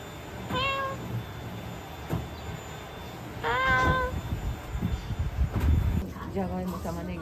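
A cat meows several times in short, drawn-out calls, with people talking and street or station background noise during an outdoor stop on a trip to Osaka.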